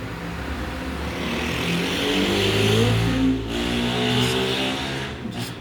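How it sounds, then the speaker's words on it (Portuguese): A motorcycle roars past close by on a street corner, rising and then fading, with steady traffic noise underneath. "Agora passando moto na rua, como eu moro numa esquina."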